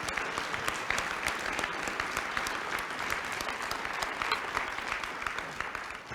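Audience applause for a speaker at a Toledo Rotary meeting, steady crisp clapping from a room full of people, moderately distant and continuous.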